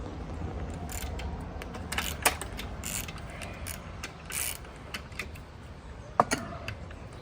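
Ratchet undoing the alternator bracket on a Mazda RX-5 project car, with a run of close, rapid ratcheting clicks and a few sharper metallic knocks, heard without talking.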